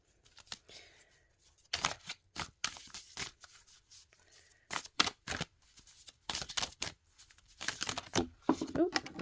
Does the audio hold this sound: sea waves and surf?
no